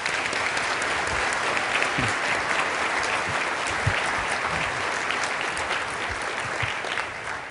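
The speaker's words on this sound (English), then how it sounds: "Let's give him another round of applause." A large audience applauds steadily after a speaker's talk, a dense wash of clapping that holds at full strength for several seconds without any voices over it.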